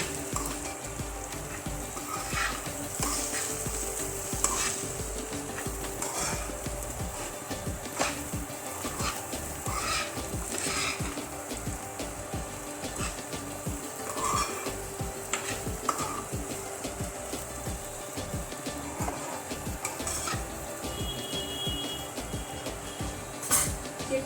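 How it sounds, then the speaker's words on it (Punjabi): Roasted spices are stirred into aloo matar, peas and potatoes cooking in a pan, with a spoon scraping and tapping repeatedly over a continuous sizzle. It stays fairly quiet and steady, and nobody speaks. "ਮਸਾਲੇ ਜਿਹੜੇ ਭੁੰਨੇ ਹੋਏ ਉਹ ਐਡ ਕਰਾਂਗੇ ਮਿਕਸ ਕਰ ਲੈਨੇ ਆਪਾਂ"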